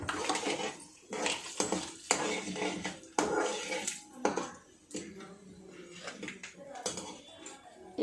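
A spoon scrapes and clatters in a cooking pot as tempering with dried red chillies and turmeric is mixed in, uneven clinks and stirring strokes, with occasional voices in the kitchen.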